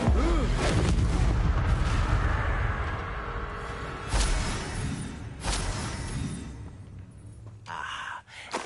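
Spell effects from the Hogwarts Legacy video game, including a fire-casting Incendio blast, give loud booming bursts over a dense rumbling game soundtrack, with repeated impacts before the sound cuts off abruptly near the end.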